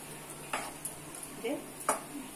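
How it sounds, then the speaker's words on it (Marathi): Spoon scraping and stirring coriander through fried rice in a pan, a few distinct quiet scrapes and clinks over a faint sizzle. "वरून थोडीशी कोथिंबीर घालून मिक्स करून घेऊया आपण."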